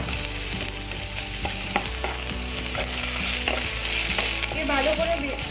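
Capsicum and chicken pieces frying together in a pan for biryani-style Maggi: a steady, loud sizzle with repeated scraping and clattering strokes of a spoon stirring throughout, close by.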